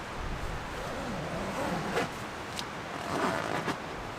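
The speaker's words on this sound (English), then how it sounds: "I can actually zip this up." A tent zipper drawn shut during a rainstorm, several short rasping zip strokes up close over a soft, steady wash of rain and wind.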